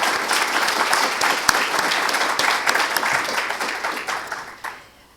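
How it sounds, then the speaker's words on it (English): Sustained audience applause from a crowd at a grand opening ceremony, dense steady clapping that carries loud for about four seconds and then fades out quickly. "Can we give them all a big round of applause?"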